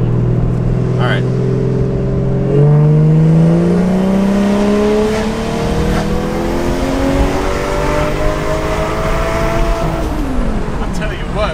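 A boosted Toyota Soarer with an automatic transmission accelerates hard, its engine note climbing steadily before the gearbox shifts early with a drop in pitch, then winds up again. The car is loud and close throughout, with no talk over it.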